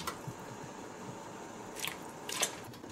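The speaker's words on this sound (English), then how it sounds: "and then just add the pork bones and the chicken bones." Pork and chicken bones go into a stock pot for Chinese soup, making soft wet squelches and two sharper clunks close by, with no talking.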